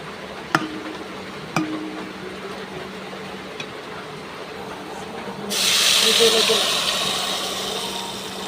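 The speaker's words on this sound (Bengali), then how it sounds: "বাদামি কালার হয়ে গেছে, এখন ডালটা ডালবো।" Dal poured into a hot tempering, bursting into a loud sizzling hiss partway through after a quieter stretch with a couple of sharp clinks, close up, with no talk.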